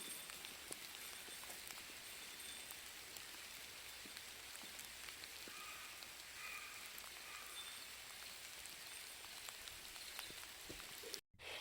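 Steady rain falls in a forest, a dense even hiss of raindrops on leaves and surfaces throughout, quiet and continuous with no voices.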